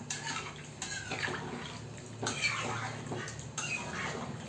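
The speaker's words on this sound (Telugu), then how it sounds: "చికెన్ బాగా ఉడికే అంత వాటర్ పోసుకోవాలి" Steady watery splashing as water is poured into a cooking pot of country chicken, with faint clinks of metal underneath and a few sharper knocks spaced through the clip.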